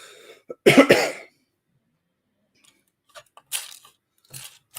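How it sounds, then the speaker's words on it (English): A single harsh cough close to the mic, followed by quiet and then a few faint rustles and small sounds. "I know I'm getting tired now because I've got a cough."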